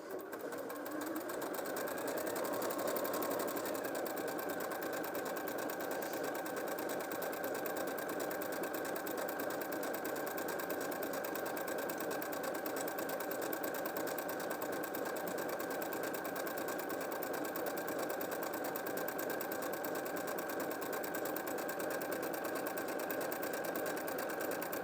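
A Janome M100QDC sewing machine runs steadily on stitch number 61, a continuous close mechanical hum and rapid needle chatter lasting the whole stretch without pause.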